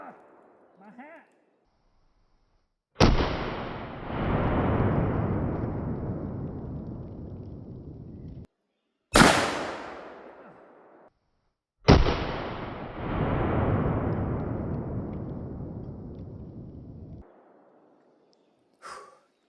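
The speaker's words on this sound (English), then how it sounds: "12 gauge slugs in a short barrel." Three deep booming 12 gauge shotgun slug blasts from a short barrel, each a sharp loud crack followed by a long rolling echo, spaced several seconds apart outdoors.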